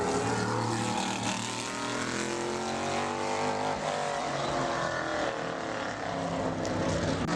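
A modified race car at Bowman Gray Stadium, Eddie Collins' number 89 Chevy backup car, on a qualifying lap, its engine a loud, sustained roar that holds steady throughout.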